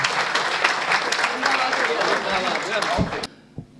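An audience claps for the comic poet Hemant Pandey at a live poetry show, a lively burst of applause with some crowd noise that stops abruptly near the end, followed by near quiet.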